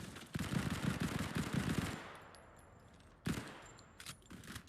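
Enemy gunfire in the video game Modern Combat 5: rapid automatic machine-gun bursts at moderate loudness, then a quieter gap, then another sharp burst with scattered shots.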